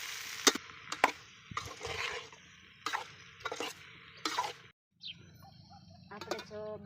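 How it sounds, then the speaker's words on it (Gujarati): A spoon scrapes and stirs as sugar is mixed into seasoned potatoes in a pan. The rhythmic strokes are close and moderately quiet, followed by a short pause, with faint bird chirps in the background. "થોડી નાખી દઈશું એમાં ખાંડ. આપણે એને હલાવી નાખીએ."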